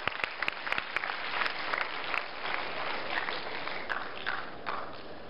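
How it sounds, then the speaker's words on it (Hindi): An audience at a Vedic gurukul Guru Purnima recitation gathering applauds a young student, sustained moderately loud clapping with sharp individual claps standing out near the start. "छोटे ब्रह्मचारी के लिए थोड़ी और जोरदार ताली बजा दीजिए"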